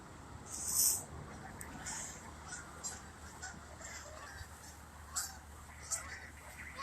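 Geese honk in short bursts at a distance, several calls over faint background noise, with a slightly louder call near the start.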